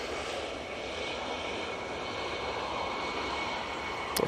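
An Embraer Praetor business jet, inbound from Liverpool to Manchester Airport, passes with a steady, loud, broadband engine roar that holds evenly throughout with no voices.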